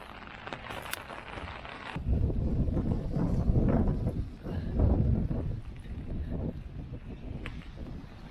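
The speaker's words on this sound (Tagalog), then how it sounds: "Sobrang lakas ng hangin." Strong wind roars against the microphone outdoors on the way to a hospital, heavy rumbling gusts swelling and dropping over several seconds.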